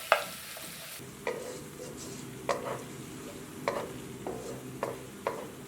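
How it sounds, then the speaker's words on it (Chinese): A spatula stir-fries finely minced garlic and red chili in hot oil, a steady sizzle running underneath while the spatula scrapes and clinks against the wok in irregular strokes, close and distinct. "用铲子不断的翻动"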